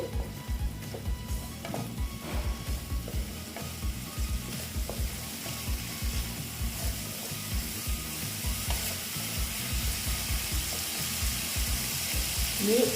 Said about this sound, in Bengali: ভালো মতন কষিয়ে নেব দেখো একটু কষিয়ে নিচ্ছি